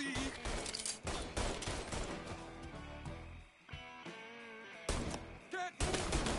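Repeated bursts of gunfire in the video game Mafia 3 Definitive Edition, rapid volleys and single shots cracking loudly amid a chaotic firefight, with brief gaps between bursts.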